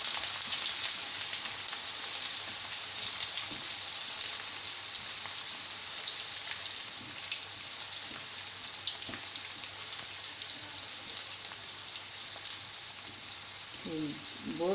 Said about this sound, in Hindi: अब मैं प्याज फ्राई कर रही हूँ।